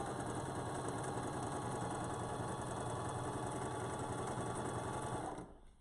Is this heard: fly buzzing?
no